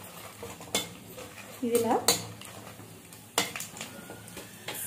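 Dry red chillies stirred and fried in a pan: a spoon scrapes and clinks against the metal in several sharp, irregular strokes over a faint sizzle, with a brief spoken word.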